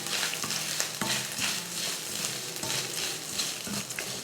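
Coconut rice with dried red chillies, grated coconut and salt being stirred in a pan, a busy scraping and faint sizzle with repeated spoon knocks against the metal, close and continuous, no talk.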